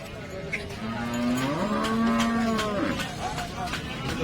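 A cow at a cattle market in Baramati gives one long, loud moo near the microphone, the call swelling and bending in pitch over a few seconds against a busy market background.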